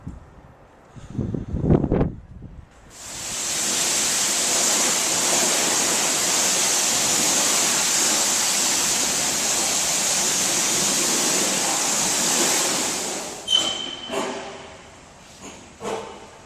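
A car wash sprays water onto a truck, a loud steady rushing hiss for about ten seconds, with short thumps and clatter just before and after.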